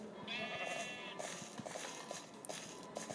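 Sheep in Minecraft bleating in a taiga area, one short wavering bleat near the start over faint game ambience and small clicking sounds, with no talk.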